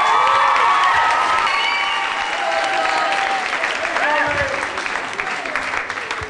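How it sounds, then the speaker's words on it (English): An audience at a school grand concert gives loud, sustained applause for the House of Fun performers, with cheering and children's shouts rising over the clapping, fading slightly toward the end. "Let's give them a big round of applause."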